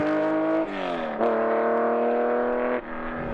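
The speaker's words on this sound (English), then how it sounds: "That 993 motor just sounds so good. Got custom headers and a 997 back box." A Porsche 993 flat-six engine with custom headers and a 997 rear silencer revs hard and close, its tone climbing, dipping briefly, then surging again in a loud, continuous roar.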